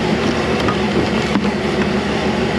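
An old common rail diesel truck engine with a couple of misfiring injectors runs rough and loud up close, a dense uneven rumble with irregular knocks throughout.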